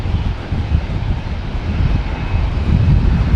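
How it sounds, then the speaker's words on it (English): A plane's engines at Brisbane airport run up on the runway, heard from a car park a few hundred metres away. It is a steady, broadband roar that slowly grows louder, with no talking. "See, we've got another plane getting ready to go."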